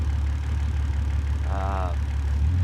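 An engine idles at full idle, pulling 22 inches of vacuum, as a steady low rumbling drone, with a short faint whine rising over it partway through.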